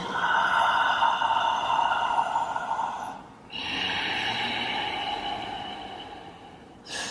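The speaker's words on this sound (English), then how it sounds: "exhale through sealed lips. It sounds like this." Yoga breathing: two long, forceful exhales pushed out through sealed lips, each a steady, breathy rush lasting about three seconds, separated by a brief pause.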